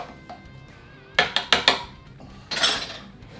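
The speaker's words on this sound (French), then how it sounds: "Et maintenant on remue." A green tomato Bloody Mary is stirred in a glass, with a quick run of bright clinks from a spoon against the glass, a short pause, then one longer ringing swirl, close and clear.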